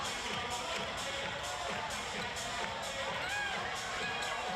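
Home crowd at a women's basketball game between UC Capitals and Sydney Flames, a steady murmur and restless reaction filling the arena beneath continuous commentary.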